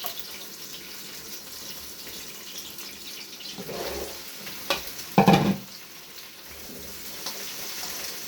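Okra roasting with onion in a pan, a soft sizzle with stirring and scraping that swells into a few louder bursts midway before settling back to a low, steady fry.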